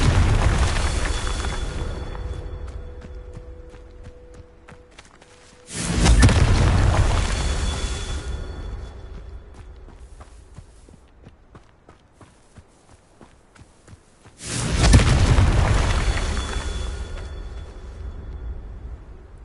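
Two Confringo fire-spell explosions in Hogwarts Legacy, each a heavy booming blast that rumbles and slowly fades, spaced several seconds apart amid light footsteps and ambient game noise.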